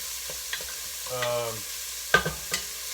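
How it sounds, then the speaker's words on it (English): Onions caramelizing in a pan give a soft, close sizzle broken by a few sharp stirring scrapes and clicks, with a brief tonal squeak midway. "So what you want to do is you want to caramelize the onions,"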